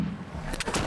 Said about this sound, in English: Pull the trigger, that releases a wound-up spring, pushes a metal striker that hits a flint, it sparks, ignites the powder,